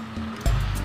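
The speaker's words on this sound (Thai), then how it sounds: "หลับตาได้ยินเสียงคลื่นไหม" Broadband surf-like wash of ocean waves, rising into a louder rush midway and staying steady, with no voices.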